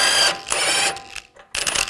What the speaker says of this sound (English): Take this nut off, use a 21mm socket.